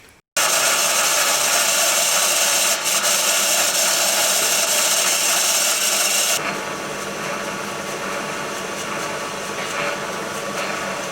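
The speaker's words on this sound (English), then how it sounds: "So what we do is we drill that out, put a brass bush in to tighten that all up." A drill bores out a worn Ford Sierra carburettor to take a brass bush, a steady loud grinding whine running for about six seconds before dropping to a quieter, softer drone.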